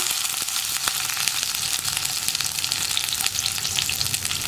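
Curry leaves hit hot coconut oil with a loud, dense, continuous sizzle and spattering hiss that holds steady throughout, close up and unaccompanied by voices.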